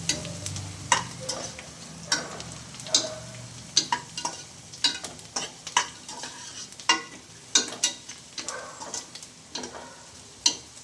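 Onions with a pinch of turmeric frying in a pan, a continuous sizzle punctuated by frequent rhythmic scrapes and taps of a spoon as they are stirred, close and fairly quiet.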